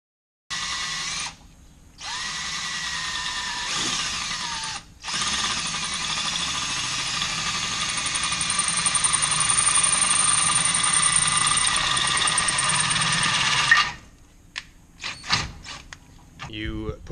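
A greased drill bit bores into aluminum while an oil return line is fitted on an LS-swapped Fox Body turbo build, giving a steady high whine in long bursts with short pauses, then stopping near the end before brief clatter.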